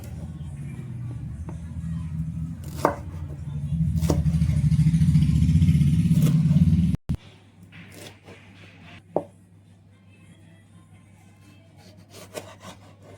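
A knife cuts capsicum, tomato and onion into large pieces on a board. Rasping, scraping strokes build into a dense run of cutting, then give way to a few sharper, sparser chops. A faint voice may murmur underneath.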